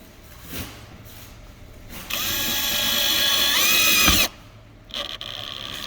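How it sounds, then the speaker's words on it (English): A handheld power drill drives a self-cutting screw into an aluminium profile during assembly of a Skyforce Top, whining and rising in pitch for about two seconds before stopping abruptly, with brief quieter clicks and handling noises before and after. "Take the drill."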